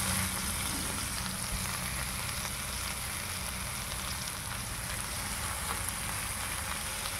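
Fresh curry leaves and dried chillies fry in oil as a continuous, even hiss with a fine crackle throughout, steady and moderately close.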